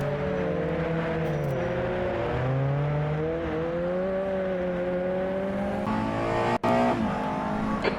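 A USF2000 open-wheel race car in a racing game holds steady throttle, its engine droning loudly and continuously. Pitch rises and falls slightly through shifts and corners, with a brief cut near the end.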